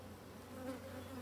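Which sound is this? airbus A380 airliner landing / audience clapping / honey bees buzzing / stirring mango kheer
honey bees buzzing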